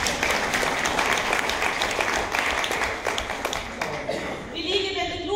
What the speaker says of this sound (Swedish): Ni ska ha en applåd tycker jag.